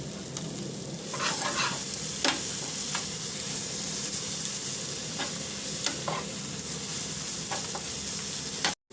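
Eggs hitting a hot pan of frying onions and curry leaves for egg bhurji give a loud, continuous close sizzle, broken by sharp spatula scrapes and taps throughout, with no talking.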